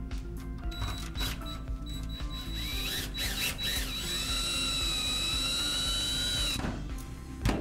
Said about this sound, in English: Now I got to secure it to the deck. Going to put a couple screws in the side here.